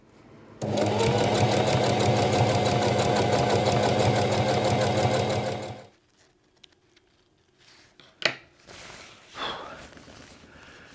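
Electric sewing machine stitching reinforcement triangles onto a homemade camping tarp, running in one steady, loud, continuous burst for about five seconds before stopping, followed by a few faint clicks and handling sounds.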